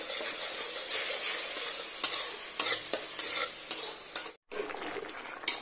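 Bitter gourd (karela) fries in a pan with a steady sizzle and hiss, broken by repeated scraping stirs from a utensil, heard up close; one brief gap of silence falls near the end.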